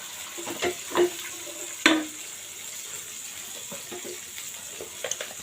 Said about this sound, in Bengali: পানি দিয়ে দিচ্ছি মশলাটা যেন পুড়ে না যায়।